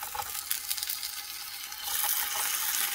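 Tomatoes and chopped peppers dropped into well-heated oil, giving a steady broadband sizzle that grows louder and denser partway through, with no voices.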